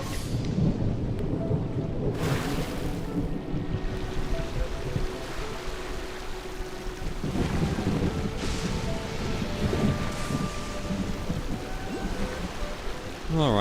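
Rumbling thunder with steady rain in the video game Genshin Impact, set in the Inazuma region; a loud, dense storm bed runs throughout, with low booming swells rising through the rain.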